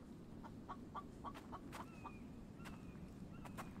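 A chicken in the survival video game The Infected clucks in a quick string of short, bright calls, fairly close, over a low ambient rumble with no talking.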